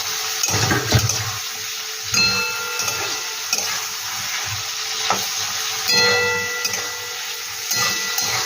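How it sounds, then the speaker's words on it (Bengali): Prawns frying lightly in oil, a steady bubbling sizzle with scattered spoon scrapes and knocks against the pan, moderately loud and close, with no voices heard. "চিংড়ি মাছটা কিন্তু বেশি ভাজবো না, একটু হালকা করে ভেজে তুলে নেব"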